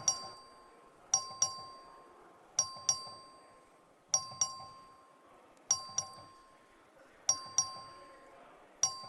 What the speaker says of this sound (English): The clerk will ring the bell.